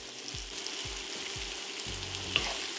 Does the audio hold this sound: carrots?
yes